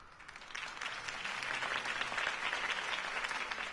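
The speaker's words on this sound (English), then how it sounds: "If only Mr. Wayne, my campaign's largest backer, could have heard that applause" Crowd applause follows a campaign speech in the Telltale Batman game: a dense, continuous wash of clapping that swells slightly and holds steady for several seconds with no talking.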